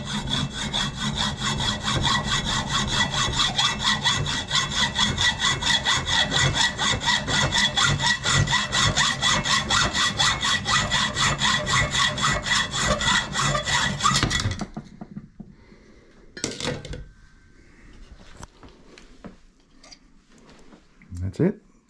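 A piece held in a vise has its end cut off with a hand saw, fast rhythmic rasping strokes running close and loud for about fourteen seconds, then stopping, followed by a few brief knocks and quiet handling noise.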